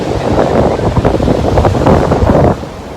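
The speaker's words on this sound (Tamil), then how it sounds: "செம்ம காற்று" Loud, gusty wind buffeting the microphone with a rough, roaring rumble that eases off near the end.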